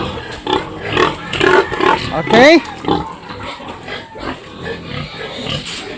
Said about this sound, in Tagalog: Kain na mga baboy.